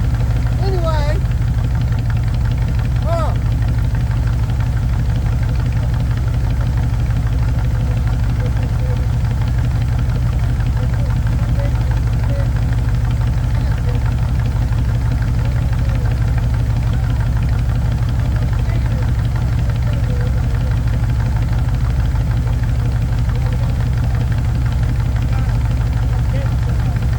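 A hot rod motor running steadily at idle, a constant low rumble with an even, loud drone throughout and faint clicks and noises over it.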